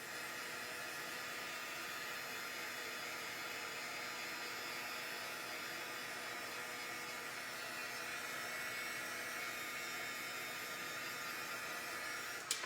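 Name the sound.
heat tool melting embossing powder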